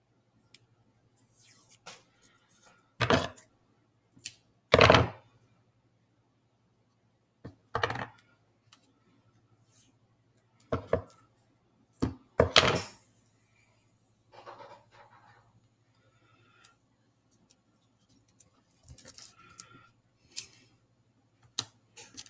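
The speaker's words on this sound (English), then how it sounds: "I'm just going to place some tape here and here at my corners" Tape pressed onto the corners of a foil circuit for a conductors and insulators lab, heard as a series of short, sharp crackling and sticking bursts spaced a few seconds apart, close by, with quiet gaps between them.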